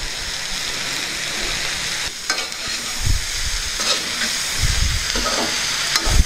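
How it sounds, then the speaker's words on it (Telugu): Peanuts added to a pan of frying pudina cabbage, a steady hiss of sizzling oil throughout with occasional scraping stirs of a spatula, close and alone without talk. "ఈ యొక్క పల్లీలని యాడ్ చేస్తున్నామండి."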